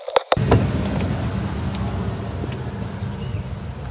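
An MG 4 EV electric car with 168 horsepower pulls away, a couple of sharp clunks followed by a steady low road and tyre rumble with light wind noise inside the cabin.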